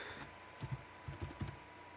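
Keys tapped on a computer keyboard while a script is written, a short run of soft, close clicks in two quick clusters, alone against a quiet background.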